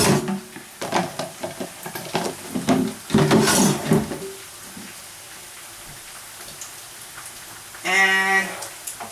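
A scrambled egg sizzles in a hot frying pan while fried rice is being made, a steady crackling hiss under clattering pan and utensil knocks. Near the end comes a brief tonal beep.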